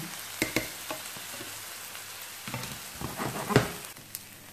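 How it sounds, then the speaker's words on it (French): Onion sautés in olive oil in a pan, a steady soft sizzle with occasional scraping and stirring knocks from a utensil, close and fairly quiet. "je fais revenir un peu d'oignon dans un peu d'huile d'olive"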